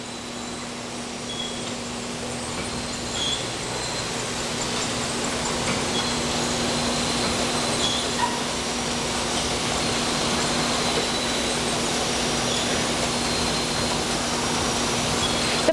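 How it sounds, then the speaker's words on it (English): A rotary overflow filler on a liquid disinfectant bottling line runs with a steady, even mechanical hum and a faint tonal whine, unbroken and moderately loud throughout. "From there, they enter a rotary overflow filler."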